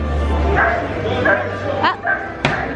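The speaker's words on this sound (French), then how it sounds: "Ah, petit chien ici." A small dog gives a few short, high yips and barks, fairly close, over a low hum of background noise at the Efteling theme park.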